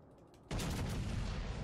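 Battleship turret guns in World of Warships Legends let loose a single heavy blast after half a second of quiet, then a loud, sustained booming roar that fills the rest of the moment with no voices.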